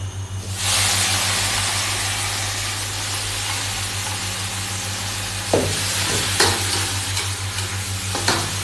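Kaeng ho ingredients sizzle and hiss steadily as they are stir-fried in a pan, with a few clanks of a utensil against the pan partway through.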